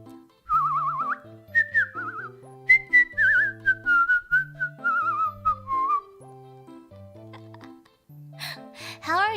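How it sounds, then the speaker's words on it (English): A person whistles a melodic, wavering tune with sliding pitches and vibrato, carried over constant background music, with a brief breathy burst near the end. "I can also whistle really well."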